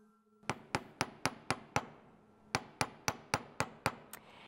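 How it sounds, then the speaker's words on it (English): Small hammer lightly tapping a piece of silver jewelry held in pliers, two clean runs of sharp metallic ticks at a steady rhythm, close and quiet with no talking. "As I'm tapping with this hammer, I'm moving my little component rather than moving my hammer all over the place."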